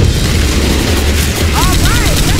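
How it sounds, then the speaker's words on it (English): A grenade goes off in the zombie shooter Left 4 Dead 2, a loud, sustained roaring blast that fills the whole moment, with a short vocal sound rising over it near the end. "Grenade!"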